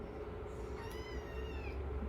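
Rescued kittens meow in a thin, rising cry over a low steady rumble, one clear call near the middle and softer mewing around it.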